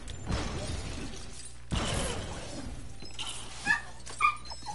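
A dog in the video game Lego Worlds barks and yips in short bursts, two sharp yelps standing out near the end over a busy game soundscape with clattering effects.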